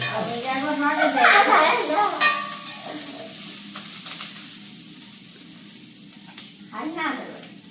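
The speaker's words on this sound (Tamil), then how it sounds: "தக்காளி பழம் வதங்க தக்காளி பழம் லைட்டா வதங்க" Tomatoes sauté in a hot pan with a soft, continuous sizzle and the scrape of stirring, while people talk over it at the start and again near the end.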